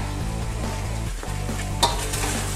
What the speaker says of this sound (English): Back to my stir fry.